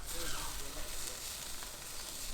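Lamb chops searing over high heat on a barbecue grill, with a dense, even hiss of fat and meat sizzling, faint and steady for a couple of seconds.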